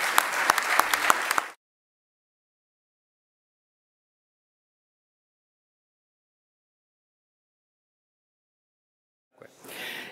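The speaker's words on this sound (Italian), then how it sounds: "Per cui vi invito a fare un applauso di incoraggiamento." An audience at a national medical congress gives a short burst of encouraging applause, loud and dense, which cuts off abruptly into silence before a faint sound returns at the very end.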